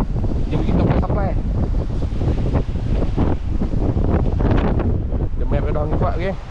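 Strong wind blows under a bridge at a fishing spot, buffeting the microphone with a loud, continuous roar while people talk through it.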